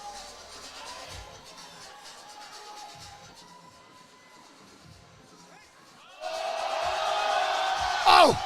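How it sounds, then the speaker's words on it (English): A UK crowd at a weightlifting meet in Sheffield, at first a low murmur under commentator talk, then bursting into loud sustained cheering and whooping near the end. "The UK crowd, obviously, cheering for Ade, cheering for Jerns"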